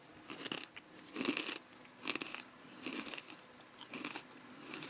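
Someone chews crunchy freeze-dried rainbow sour candy close to the microphone, giving about five crisp crunching bites in a steady rhythm with no talking.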